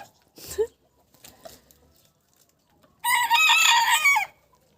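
A rooster crows loudly and close by, one long harmonic call lasting over a second, following a few softer clucks and scuffling noises, among bantam and Cochin roosters.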